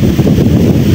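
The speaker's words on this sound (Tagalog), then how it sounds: "malakas ang hangin" Strong wind at a tilapia fishing spot buffets the microphone in a loud, close, continuous rumble for about a second.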